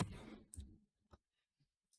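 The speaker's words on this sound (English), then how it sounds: "just okay, click OK" A single soft mouse click sounds after a brief burst of talk, followed by a couple of faint ticks in a quiet room while a Windows Paint dialog is confirmed.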